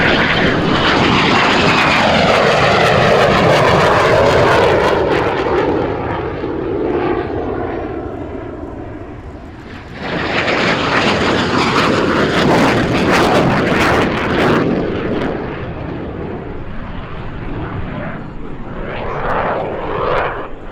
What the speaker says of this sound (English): Coming in from our right, the gear is up, the burners are lit.